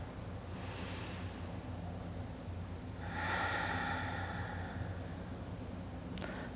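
Slow, deep breaths during a seated morning yoga session, a faint inhale followed by a longer, fuller breath through the nose over a low steady background hum.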